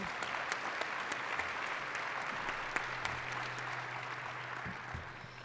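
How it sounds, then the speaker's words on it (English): Audience at the Untapping Potential Summit giving steady, sustained applause, moderately distant and even throughout, with no voices over it. "give Seth and John a little round of applause and the entire Volunteering Untapped team"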